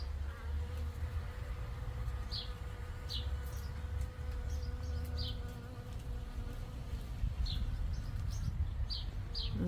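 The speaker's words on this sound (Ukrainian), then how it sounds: "Бджолки так працюють." Bees and other insects buzz steadily through a garden on a cloudy day, with short chirps from birds scattered over the hum and no one speaking.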